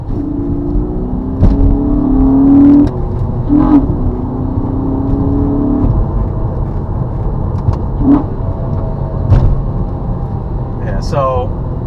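A 2013 Honda Accord V6 coupe under way, its engine droning steadily with swelling and easing pitch as it accelerates, over continuous road and cabin rumble.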